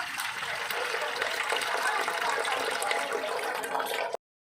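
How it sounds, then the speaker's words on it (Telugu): Water poured steadily into a cooking pot for Hyderabadi chicken dum biryani, a continuous close gushing stream lasting about four seconds that stops abruptly. "నీళ్ళు వచ్చినంత వరకు నీళ్ళు పోయండి"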